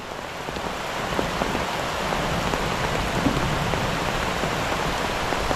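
Heavy rain pouring steadily during a fishing outing, a loud, dense, unbroken hiss of drops drumming on surfaces, close and constant throughout with no talk.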